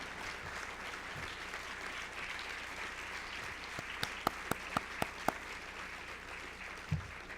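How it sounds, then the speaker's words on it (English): Audience applause at a World Jewish Congress event, steady sustained clapping from a large crowd throughout, with a few sharp louder claps standing out near the end. "We applaud you."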